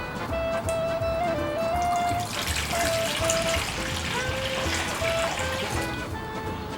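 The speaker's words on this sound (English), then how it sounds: "Add a half liter of water." Half a liter of water poured into a bowl for Neapolitan pizza dough, a steady continuous trickle and splash running close and fairly loud for several seconds, with faint tonal hum lines underneath and no talking.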